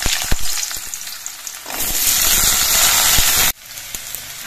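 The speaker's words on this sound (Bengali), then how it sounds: "এবার প্রথমে আমি এই আলুগুলো ভেজে নেব।" Potatoes fry in hot mustard oil in a wok with a loud, steady sizzle that swells as they go in, then cuts back sharply near the end.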